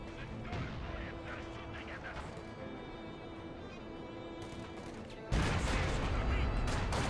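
B4 artillery barrage in Company of Heroes 2: dense, sustained rumbling shell impacts and blasts that suddenly swell louder near the end, with a commentator's voice running underneath.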